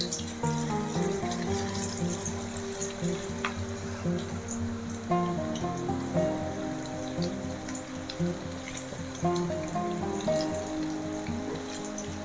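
Small moringa leaf pakoras fry in oil over low flame, giving a steady, dense bubbling sizzle throughout with no talk.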